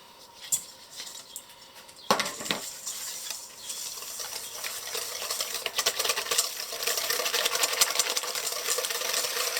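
A whisk beating eggs with whole cane sugar in a bowl, a steady close scratchy rhythm that builds after a couple of clinks and continues without pause, with no talk.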